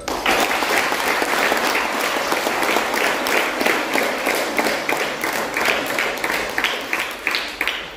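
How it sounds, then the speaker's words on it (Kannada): Audience applause at a children's drama and folk festival, dense sustained clapping from a large crowd for the full stretch, loud and close. "ನಿಮ್ಮೆಲ್ಲರ ಜೋರಾದ ಚಪ್ಪಾಳೆ"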